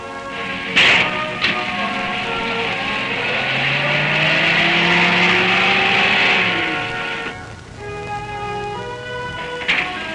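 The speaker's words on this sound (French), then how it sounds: "la voiture passe sur le banc à rouleau où l'on vérifie son freinage" A 1950s Peugeot car sits on a roller bench for a brake test: a whirring mechanical hum builds and holds, then drops away, bracketed by sharp knocks and thuds.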